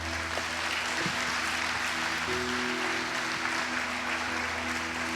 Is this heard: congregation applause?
yes